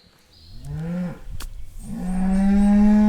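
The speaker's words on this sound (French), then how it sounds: "les vaches brament" Cows moo loudly and close by in a field, one long low moo followed by a second, stronger sustained call.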